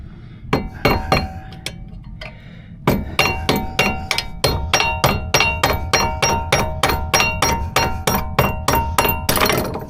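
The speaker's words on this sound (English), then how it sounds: "should I just go down there and hammer it up?" Hammer blows on a front suspension part of a 2014–2019 GM Silverado during a 3-inch leveling kit install: a steady run of loud, sharp metallic strikes, sparse at first then rapid and evenly spaced, close up with no talk.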